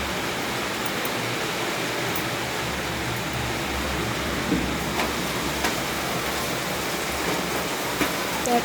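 Heavy rain falling steadily as a dense, even wash of hiss that goes on without a break, with a few faint louder spatters.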